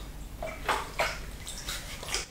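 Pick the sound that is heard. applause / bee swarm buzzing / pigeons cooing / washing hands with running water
washing hands with running water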